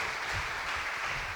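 A church congregation applauds during a praise and worship service, a dense steady wash of clapping from many people in a hall.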